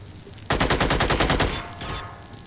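Rapid automatic gunfire from the video game Xenonauts, Community Edition, a loud burst of evenly spaced shots that runs for about a second, then fades into a softer trailing rattle.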